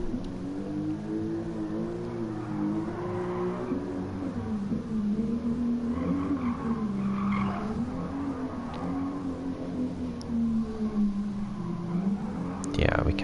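A Toyota Supra Mk4 in a Gran Turismo Sport replay, its engine a steady droning hum that rises and falls with the revs, with faint tire squeal and a sharp sweep near the end.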